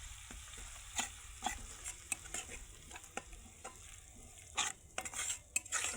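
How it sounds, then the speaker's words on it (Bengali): Cumin paste and tomato sauce are stirred in a hot pan while cooking a silver carp dish, a quiet sizzle broken by repeated clinks and scrapes of a spoon against the pan, with no talking. "জিরে বাটা, টমেটো সস, ভালোভাবে নেড়ে নেব।"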